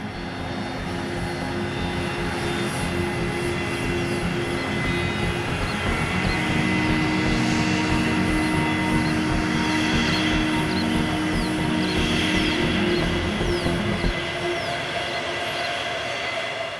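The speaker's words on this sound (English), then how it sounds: "When it's busy, more than 400 daily flights take off and land here." A jet airliner roars past at Hamburg airport, a loud, broad engine rumble with a high whine that swells and holds before cutting off sharply near the end, with no voices.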